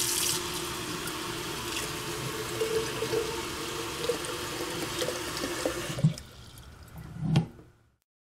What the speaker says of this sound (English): And here's how easy it is to change the water out now.